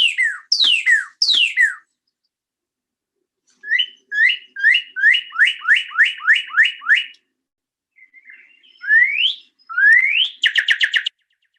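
Northern cardinals sing a duet, clear loud downslurred whistles in three groups: a few slow notes, then a rapid even series, then rising whistles ending in quick chips, alone against silence.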